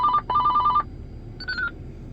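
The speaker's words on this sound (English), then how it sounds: "getting distracted by a phone call there" A phone rings with an incoming call, giving two quick electronic ring bursts followed by a shorter, higher chirp, close and clear over faint background noise.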